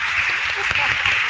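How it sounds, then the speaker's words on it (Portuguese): An audience claps for a landscaping design team at a talk, a dense, steady patter of applause with a voice speaking over it. "eu queria pedir palmas também para a nossa equipe que está aqui"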